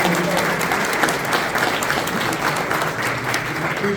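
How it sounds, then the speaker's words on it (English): A crowd at the 2022 CPNYS summer reception in New York claps steadily and densely, sustained applause filling the room without a break. "How about another round of applause for Jerry Kassar, the great"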